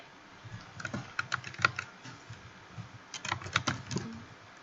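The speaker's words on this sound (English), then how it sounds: "And now we could type git commit -m" Keys clatter on a computer keyboard as a git commit command is typed, in two quick bursts of close, crisp keystrokes separated by a short pause, with no voices.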